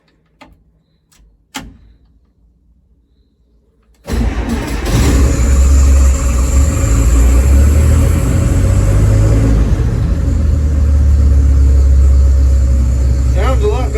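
Gleaner combine engine running after an exhaust leak repair: a few faint clicks, then the engine fires at about four seconds and settles into a loud, steady, low rumbling idle that continues to the end.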